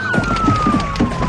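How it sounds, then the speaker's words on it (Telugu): A police siren wails in a tense scene from a Telugu thriller film, one steady, loud tone gliding slowly downward over a low rumble and faint murmuring. "ఆ బ్యూటిఫుల్ సైరన్ సౌండ్?"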